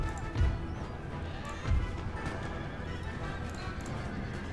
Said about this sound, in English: charged my heavy horse.